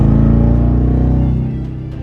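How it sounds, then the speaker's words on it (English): A car engine revs briefly under light throttle, heard from inside the cabin with the windows up: a steady, muffled low rumble that eases off slightly toward the end. "But if you just listen from inside and give a little bit of gas,"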